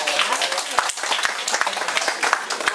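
Congregation applause at a church growth conference, a dense steady clatter of many hands lasting a few seconds with voices mixed in.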